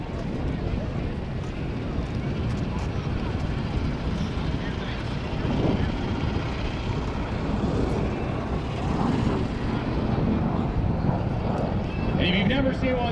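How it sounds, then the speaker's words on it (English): Loud, sustained roar of an MV-22 Osprey tiltrotor aircraft passing at an air show, a broad rumbling engine and rotor wash that swells slightly toward the end, with crowd noise and an announcer's voice mixed in. "the V-22 Osprey in action"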